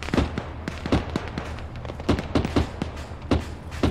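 Gunfire in the video game Arma 3 during an urban firefight: a string of sharp, loud reports at uneven intervals, some in quick pairs, with echoing tails and a low rumble between shots.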